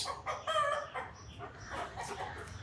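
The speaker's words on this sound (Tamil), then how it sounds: "பக்கத்தில் ஒரு கோழி இங்கே பாருங்க கோ கோ கோன்னு சொல்லிகிட்ருக்கு" A chicken near a German shepherd clucks in quick repeated bursts with a short call among them, heard fairly close over faint background noise.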